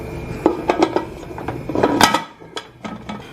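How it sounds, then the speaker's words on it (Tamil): A pressure cooker lid with its washer removed is set down and closed, giving a few light metallic clinks and scrapes spread over a few seconds with no talk. "குக்கரில் உள்ள வாஷரை எடுத்துகிட்டு சும்மாவே அப்படியே மூடி வச்சுருங்க"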